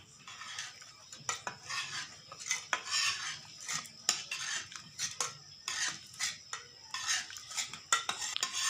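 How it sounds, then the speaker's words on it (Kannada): Boiled toor dal being stirred in a metal pot with a spoon, giving a quick series of close scrapes, clinks and knocks in an irregular rhythm, with no voices over it. "ಈಗ ಇದನ್ನು ಚಂದಾಗ ಮಗಚ್ತೀವಿ ನೋಡ್ರಿ."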